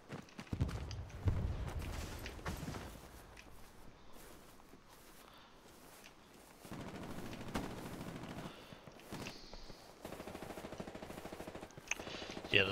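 Gunfire in the World War II shooter game Hell Let Loose: repeated bursts of rifle and machine-gun fire, some near and loud, others more distant, separated by quieter gaps.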